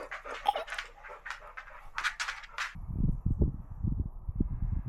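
A dog named Ed breathes heavily, panting in quick rhythmic bursts close by, first with higher breathy huffs, then deeper, rougher panting in the closing seconds.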